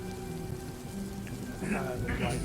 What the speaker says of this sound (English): Everybody's carrying an umbrella to ward off the rain that's coming down.